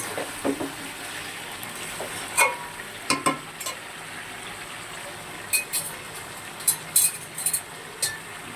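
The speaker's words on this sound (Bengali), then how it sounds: "আর এদিকে দেখো সোয়াবিন রান্না হচ্ছে।" Soybeans cooking in a pan, a low sizzle broken by scattered clinks and scrapes of a stirring utensil, with no speech.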